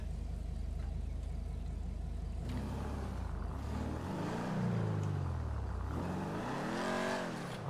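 A Hot Ring car in the GTA racing game rumbles at idle, then its engine revs up and down in rising and falling sweeps, loud and close, with no talk.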